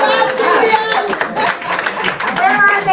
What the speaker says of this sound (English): need an applause for that one